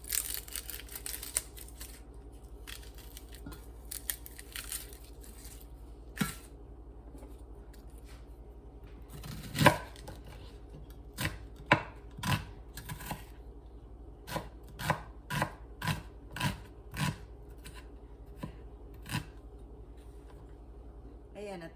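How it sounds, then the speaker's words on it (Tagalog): A knife chops ginger, garlic and onion on a board in irregular sharp taps, sparse at first and then in quicker bursts, with quiet talk underneath. "bali tapos ko nang hiwain tong luya, bawang at sibuyas"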